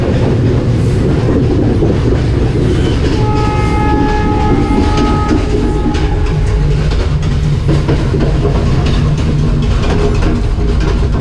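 Loud, steady roar of a Sri Lankan train in motion, heard between carriages, with rhythmic rail clatter and rumble, and faint tonal squeals rising over it midway.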